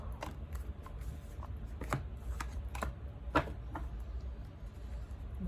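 A tarot deck being handled and shuffled, a series of quick crisp card riffles and slaps close by, irregularly spaced over quiet background with no talk.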